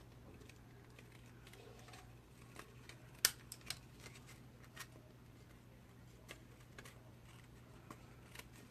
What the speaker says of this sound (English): then you can go ahead and cut away the excess